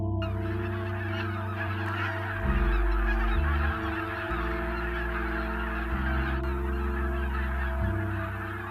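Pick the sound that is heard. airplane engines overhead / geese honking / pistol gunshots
geese honking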